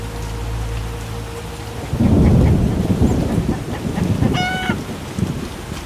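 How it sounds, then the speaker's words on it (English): Rain and thunder in The Witcher video game: a steady hiss of rain, then a loud rolling thunderclap that rumbles on for several seconds under the downpour, with a brief bird-like chirp near the end. "Some rain."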